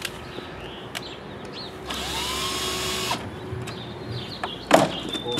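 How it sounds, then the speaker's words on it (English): Screws being driven out of an old electrical box on a Force 2 washer during an electrical install: a sustained whirring power-driver run of about a second, with brief clicks and a sharper knock near the end, close and moderately loud. "I'm removing the screws now that are attaching the old electrical box"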